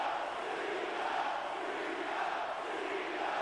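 A capacity arena crowd in the WWE SmackDown vs Raw 2006 video game roars in a steady, dense wash of cheering with no break.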